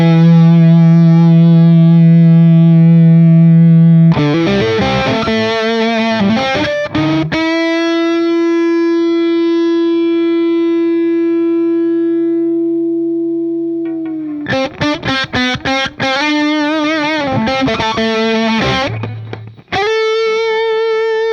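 Electric guitar played through a Laney tube amp plugin in bluesy tones, with loud sustained notes, bends and chord stabs ringing out alone with no talking.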